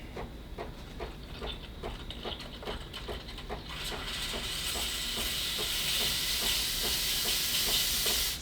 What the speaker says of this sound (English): So we'll let the steam build up a little bit.